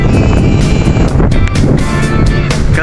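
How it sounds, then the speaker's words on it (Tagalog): Strong wind near a hanging bridge buffets the microphone with a loud, continuous low roar and rumbling gusts throughout. "lakas ng hangin"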